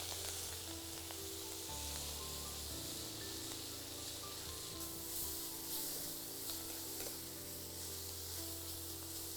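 Fenugreek (methi) leaves fry in hot butter and oil with spices for a Tamil-style methi matar paneer gravy, giving a steady, close sizzle with light stirring and no talk.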